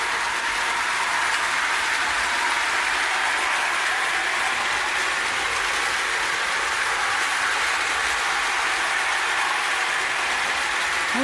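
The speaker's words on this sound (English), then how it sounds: "Gotta love vintage toy trains" A small prewar Marx toy train clatters continuously along its track, a steady rattling whir with no pauses.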